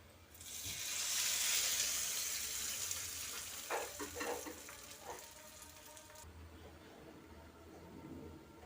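A tempering of spices in hot oil hisses loudly as it is poured into bottle gourd chutney, a sharp swelling sizzle that fades, followed by a few scraping stirs and a soft background hum.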